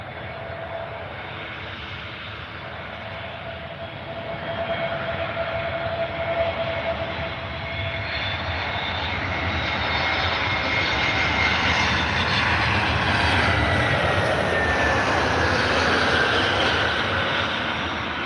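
An airplane landing, its engine roar building and swelling steadily into a loud, sustained rumbling whine with a faint rising whistle, no talk.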